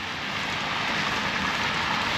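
Steady rain pours down on a street in Keflavík, Iceland, a dense, even hiss of drops filling the whole stretch with no pauses or talk.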